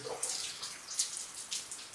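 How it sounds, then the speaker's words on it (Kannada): Heavy rain pouring outside a house in a village near Bangalore, with water leaking indoors, heard as a steady close hiss of falling and splashing water with brief spattering bursts and no talk. "ಹೆವಿ ಜೋರಾಗಿ ಬರ್ತೈತೆ ನೋಡಿ ಮಳೆ ಈಚೆ."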